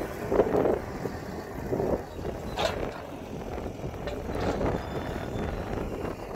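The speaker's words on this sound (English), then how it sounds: "Bit breezy." Wind gusts across a hay field during canola and hay work, a rough, rumbling buffeting of the microphone that rises and falls throughout.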